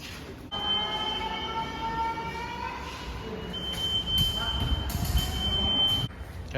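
Riding a Kochi metro train: a steady rumbling hum of the carriage in motion with rising whining electric motor tones, heard from inside throughout.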